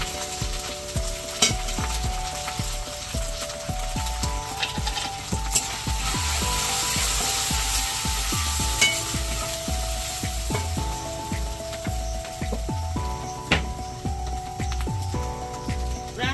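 Ground turmeric, cumin and red chili powder fry loudly in hot oil for a chicken curry, a continuous close sizzle broken by repeated scraping stirs of a spoon against the pan.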